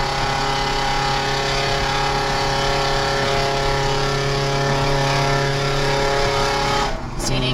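A Toyota Corolla engine with a straight-through exhaust and no muffler drones loudly and steadily close by, roaring at high revs with a sustained buzzing tone before briefly dropping off near the end.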